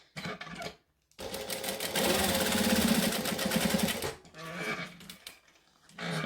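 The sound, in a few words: sewing machine stitching down each side of wallet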